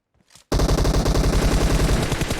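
Rapid automatic gunfire from the shooter game PUBG Mobile, a loud, sustained burst of evenly spaced shots starting abruptly after a brief faint noise, with no talking.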